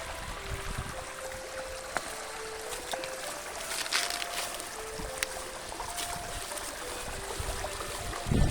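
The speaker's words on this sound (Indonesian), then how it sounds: "Gemericik air" River water babbles and trickles around large stones at the Kedung Lowo water bridge, a steady moderate flow close by, with occasional small splashes and no voices.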